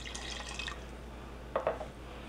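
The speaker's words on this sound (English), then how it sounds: "I'm pouring in some beef broth." Beef broth is poured into a hot pan over high heat, giving faint dripping and trickling liquid sounds with a brief louder splash near the end.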